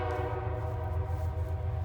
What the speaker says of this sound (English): It wouldn't be a video if the train didn't come, right?